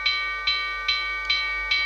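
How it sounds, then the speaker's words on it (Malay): Order notification chime from the Makan2U food ordering app, five identical bright electronic tones repeating at a steady even pace, clear and close with nothing else heard. "ini adalah bunyi yang akan keluar di phone anda dan juga di desktop"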